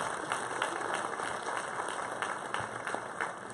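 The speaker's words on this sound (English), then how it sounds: "So let's have another round of applause for Elizabeth." Steady applause from an audience at a high school varsity athletic awards ceremony, a dense continuous patter of clapping that holds at an even level throughout with no voices over it.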